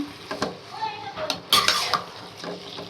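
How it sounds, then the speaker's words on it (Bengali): Chicken pieces tipped into a pan of cooked-down spices, with clattering pan and utensil knocks and scraping stirs in short bursts, a louder clatter midway, close and fairly loud. "মশলাটা কষানো হয়ে গেলে মাংসগুলো দিয়ে দেব। চিকেনগুলো এবার দিয়ে দিলাম।"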